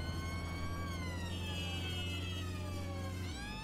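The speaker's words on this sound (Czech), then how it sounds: "To je sanitka" A wailing ambulance siren sounds in the Watch Dogs: Legion video game, its rising and falling electronic tones loud over a low steady engine hum, with no talking.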